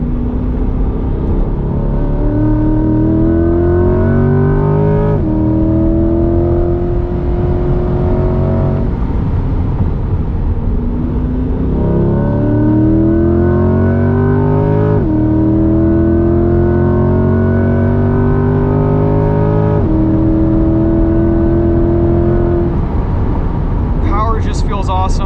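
A 2021 Chevrolet C8 Corvette Z51 with a 6.2-liter V8 and performance exhaust, driven hard on a track, climbs through the revs again and again, with loud rising engine notes broken by quick shifts, close and continuous throughout.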